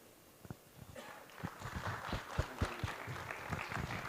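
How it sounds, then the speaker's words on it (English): At a cinema industry expo, an audience breaks into applause that starts with a few sparse claps and builds into fuller, uneven clapping, fairly faint and somewhat distant. "Ladies and gentlemen, a big round of applause."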